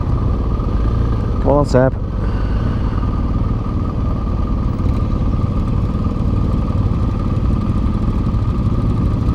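Moto Guzzi motorcycle engines run close by with a continuous loud, low rumble and idle throb. A brief spoken phrase passes over the engine noise early on.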